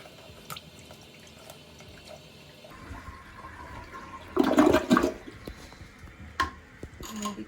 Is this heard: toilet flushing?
yes